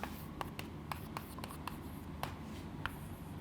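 Handwriting with a pen on paper, a sparse series of quick scratchy strokes at irregular intervals, close and faint over a low background hum.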